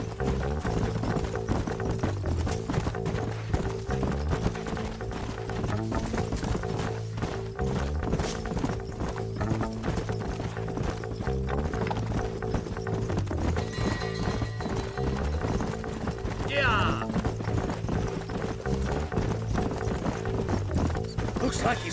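Horses gallop in the Red Dead Redemption video game, with rhythmic clip-clopping hoofbeats running steadily throughout under a dense bed of game music and sound.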